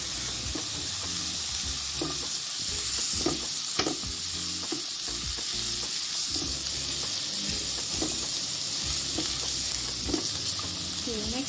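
Onion and garlic sauté in a hot pan, making a constant loud sizzle and hiss broken by light stirring taps, with faint voices in the background.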